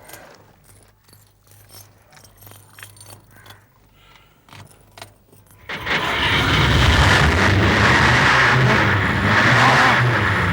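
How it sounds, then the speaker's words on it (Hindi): A car with a burst silencer being started: keys jangle and click for several seconds, then the engine catches and runs with a loud, rough, sustained roar. "गाड़ी स्टार्ट करके देखते हैं कि कैसी आवाज आती है।"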